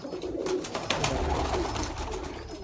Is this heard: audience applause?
no